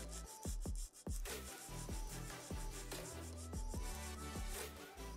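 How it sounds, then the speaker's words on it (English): Rapid rhythmic filing strokes of a nail file across an acrylic nail being shaped into a long almond, close and steady with short scraping passes repeating throughout, no talking. "holding the finger securely, file straight out, and then slightly taper in"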